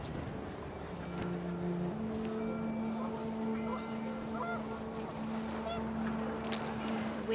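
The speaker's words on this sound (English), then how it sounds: "The wind picked up, and panicked geese appeared and quickly went." Panicked geese in the video game What Remains of Edith Finch, honking loudly and repeatedly over windy background noise, no speech.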